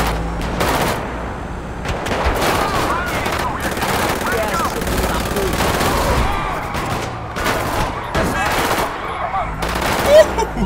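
Machine gun fire during a Paleto Bay bank heist in the video game GTA V, with loud, continuous rapid bursts and overlapping shots, while voices shout beneath the gunfire.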